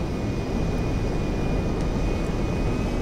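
Steady, loud airplane engine drone from a plane in Grand Theft Auto V, a continuous roar with a faint high whine and no pauses.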